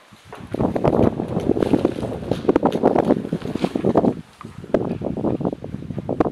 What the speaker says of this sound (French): pas mal de vent là.